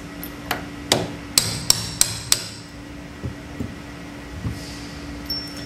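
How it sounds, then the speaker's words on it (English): Sharp metallic hammer taps on tablet press punch head tooling, knocking out pins, ring out in an uneven series, several close together, then a few softer, duller knocks with quiet gaps between. "simply tap them out there with the hammer"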